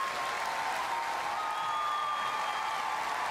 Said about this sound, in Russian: Встаем и хлопаем.